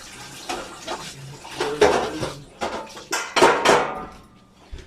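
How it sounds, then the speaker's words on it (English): A pan being rinsed under a running tap, water splashing and gushing in uneven bursts with metallic knocks and clatters of the pan against the sink, all close and fairly loud. "actually I should wash this pan out"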